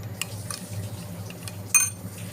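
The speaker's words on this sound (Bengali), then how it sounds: "ভালো করে সবগুলো উপকরণ দিয়ে মিশিয়ে নিচ্ছি" Utensil scraping and clinking in a pan while chow mein ingredients are stirred and mixed, soft intermittent taps with one sharper metallic clink near the end, over low background hum.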